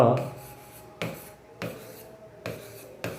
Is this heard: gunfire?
no